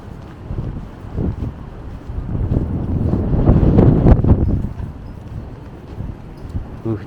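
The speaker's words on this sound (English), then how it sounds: "it's very windy" Wind buffeting a handheld microphone on a Toronto city street at night in January, a loud, continuous low rumble that swells toward the middle and eases off, with no speech.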